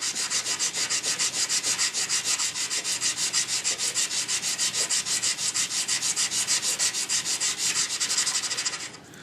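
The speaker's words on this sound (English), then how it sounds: "we're just going to go ahead and keep sanding that till it's got a nice mirror finish" Steady rhythmic sanding: sandpaper rubs back and forth across a metal pistol part laid flat on a table, in quick, even strokes, loud and close, without a break.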